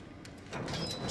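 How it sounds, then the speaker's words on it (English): In the video game Quantum Break, a door slides open with a short mechanical hiss and a rising whoosh that swells over about a second, faint and close. "I'll open up the door for you."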